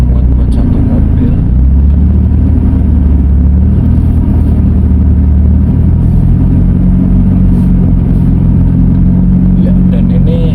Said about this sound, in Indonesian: Sekarang saya akan coba bawa Mercy ini ke jalan sempit.